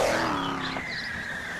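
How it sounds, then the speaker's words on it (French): Vehicle traffic generated by a construction site on a road, a steady engine rumble with a passing car, fairly close and continuous for the whole moment, with no talk over it. "Parlons de la circulation des véhicules générés par le chantier."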